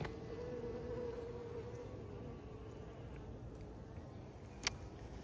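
A steady, low insect buzz hums throughout, like many honeybees around a hive, with a brief sharp click near the end.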